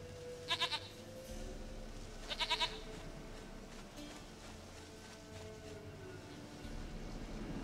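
In the video game Witcher 3, a goat gives two short, quavering bleats a couple of seconds apart, moderately close, over a low, steady ambient rumble.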